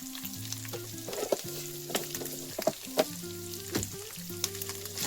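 Salted potatoes fry in a pan in a steady soft sizzle, broken by intermittent scraping and clinking stir strokes, with a low tonal hum running underneath and no voices.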